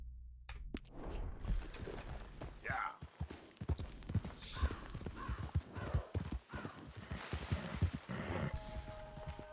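In Red Dead Redemption 2, a horse's hooves clip-clop in a quick irregular rhythm, with a neigh or whinny in places, while someone talks over the steps.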